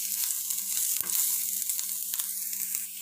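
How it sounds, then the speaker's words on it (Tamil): Chopped onions sauté in a pan for a beetroot stir-fry, giving a steady close sizzle with one brief clatter of stirring and no talk. "வெங்காயம் வந்து பார்த்தீங்கன்னா லைட்டாக வதங்கட்டும்"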